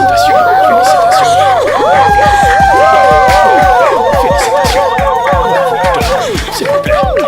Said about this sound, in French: S'il vous plaît, applaudissez pour elle.